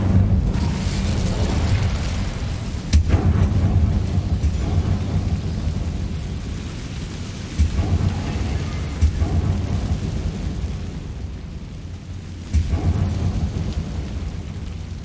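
A fiery Incendio spell blast in the Hogwarts Legacy video game, a loud continuous rumbling roar with sharp bursts of impact, like crackling thunder and explosions, sustained over the whole stretch without voices.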